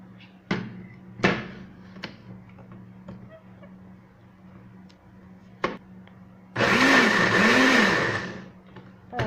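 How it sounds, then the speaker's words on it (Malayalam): Kitchen mixer grinder blending coconut, onion, cinnamon, rice and water: a few sharp clicks, then a loud whirring roar for about two seconds before it cuts off. "ഇനി നമുക്ക് ഇതെല്ലാം കൂടെ ഇട്ട് ഒന്ന് ഗ്രൈൻഡ് ചെയ്തെടുക്കാം."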